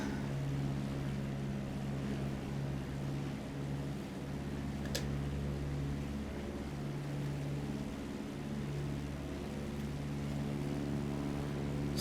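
A light aircraft engine drones steadily at reduced throttle in flight, a constant close hum with strong low harmonics and no voices.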